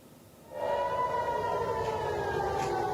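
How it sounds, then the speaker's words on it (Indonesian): An air raid warning siren in Tel Aviv rises after a quiet moment into a loud, sustained wail that holds steady and echoes, with no voices over it. "Suara sirine tanda peringatan terdengar di sejumlah titik di Tel Aviv"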